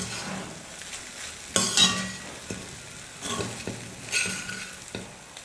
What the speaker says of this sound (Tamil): 5 நிமிஷம் நல்லா நான் வதக்கிக்கிட்டேன்